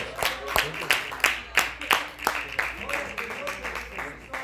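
Church congregation clapping hands in a steady rhythmic beat, sharp claps repeating about every third of a second, moderately loud with voices and room noise underneath.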